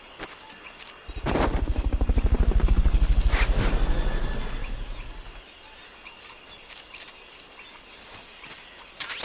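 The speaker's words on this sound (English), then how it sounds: "Fulton recovery subject confirmed onboard helicopter." A helicopter in Metal Gear during a Fulton recovery swells in, its rotor thumping loud for a few seconds, then fades away, leaving faint ambience with occasional clicks.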